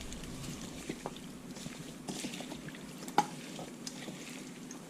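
A spoon quietly stirs mangrove snapper ceviche with cilantro and jalapeno in a bowl, giving soft wet squelches and light taps nearby.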